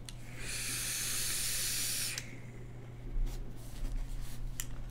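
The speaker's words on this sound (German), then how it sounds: "ihr hört's. Es dampft." Puff Box Brigada vape box device sending out a steady, close steam hiss for about two seconds, then cutting off to leave faint handling noise and light clicks.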